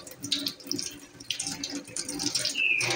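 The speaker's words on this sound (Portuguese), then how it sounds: "Eu vou encher o bebedor do meu passarinho." Filtered water is poured into a pet bird's drinker, a steady splashing trickle running the whole three seconds, close by, with a short bird chirp near the end.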